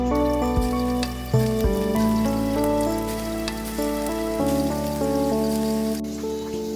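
Egg bara fritters frying in hot oil in a home kitchen, a steady crackling hiss like rain on a surface that runs throughout, with a sustained tonal musical drone layered over it.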